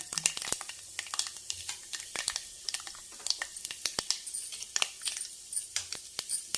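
Tempering spices crackle and pop in hot oil over low heat with dense, rapid spitting, a busy sizzle heard up close with no one speaking.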